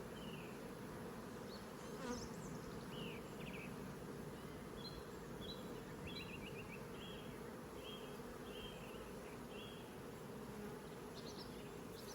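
Honey bees being moved from a nuc into a hive make a steady, close swarm of buzzing, with individual bees droning past now and then over the continuous hum.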